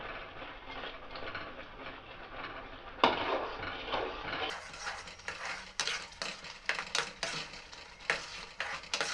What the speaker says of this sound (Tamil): நைஸாக அடி பிடிக்காத அளவுக்கு எல்லாம் ஒன்று சேர்ந்த மாதிரி அப்படியே லெவலாக கிண்டிட்டு வரணும்